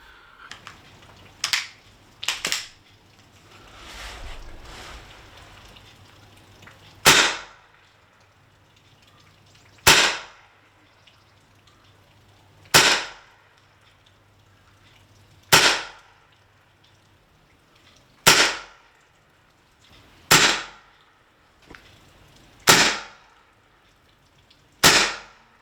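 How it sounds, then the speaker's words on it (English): Upgraded HDR 50 gas-powered home defence pistol fired indoors, giving about eleven sharp, close pops spaced a few seconds apart, each followed by a brief hiss of gas, with a short low rumble between early shots. "we'll take it through and try and shoot it now"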